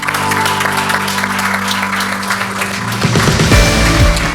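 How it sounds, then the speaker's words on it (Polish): Applause from a crowd honouring a second-division football team at its end-of-season gathering, steady and dense throughout, with a low voice and some thumps rising near the end. "te brawa dla Was wszystkich się tu teraz należą"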